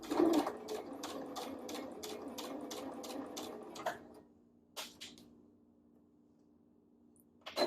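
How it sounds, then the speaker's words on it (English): A sewing machine stitches a V-neck seam at a steady rapid rhythm for about four seconds, then stops, leaving a faint hum and a couple of soft clicks. "I'm not going to lock those stitches just in case I want to rip them out later for some reason."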